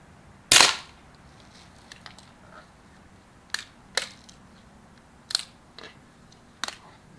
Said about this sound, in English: we're going to fire 5 just like we did before.